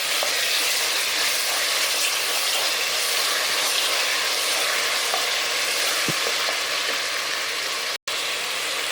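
Onions fry with ginger garlic paste in a pan, giving a loud, steady sizzle with occasional small pops and a brief clink near the end.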